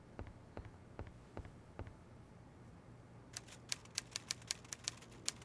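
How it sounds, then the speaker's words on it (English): Typewriter keys struck in a quick irregular burst in an Agatha Christie mystery game, starting after a few slower, softer taps over a low background hum; moderately close and clear. "he seems to be typing up quite a storm"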